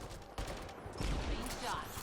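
Rapid bursts of gunfire during combat in Mass Effect Andromeda, clustered shots over a short span with a voice speaking underneath.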